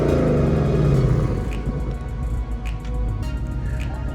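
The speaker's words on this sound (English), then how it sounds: "this is a 2019 GT with the valves on quiet mode" A 2019 Ford Mustang GT fitted with a Borla ATAK active exhaust, valves closed in quiet mode, gives a loud steady low rumble with a slight swell near the start, close by with no talking.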